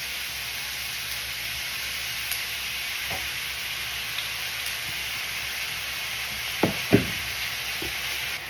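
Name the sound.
oyster sauce added to frying pan, sizzling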